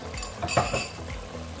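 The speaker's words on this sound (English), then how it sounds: "So I threw the tomato in. Just stir it around." Chopped tomato stirred into braising meat in a pot for a Cape Malay sugar bean bredie, with a few close metallic clinks and scrapes of the spoon against the pot over a soft background.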